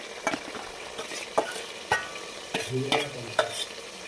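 Tomatoes stirred into a bhetki fish head simmering in a pan, with soft sizzling and intermittent clinks and scrapes of a spatula against the pan.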